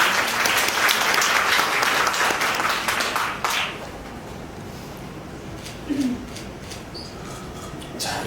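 Wedding guests at a church ceremony give warm, dense applause for the officiant, which fades after a few seconds into quiet room tone with a brief low murmur.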